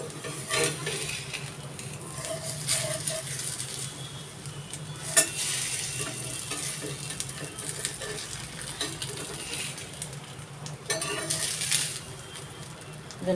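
Neer dosa cooks on a hot pan with a steady, close sizzle, broken by a few scraping and metallic clinks as the thin rice crepe is loosened and lifted off.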